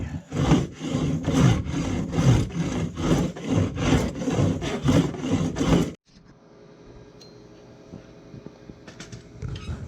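Hand sawing or rasping a wooden tenon for a coffee table, about a dozen steady rhythmic back-and-forth strokes that are loud and close. They stop abruptly partway through, leaving quiet workshop room noise.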